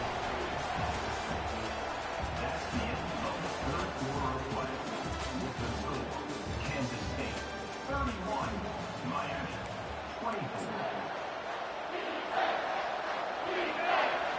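Stadium crowd roaring steadily in a college football video game, a dense continuous wash of cheering with a play-by-play commentator talking over it throughout.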